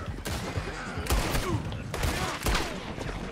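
Rapid bursts of gunfire in Red Dead Redemption 2 while riding, repeated sharp shots clustered in volleys over steady background rumble, moderately loud.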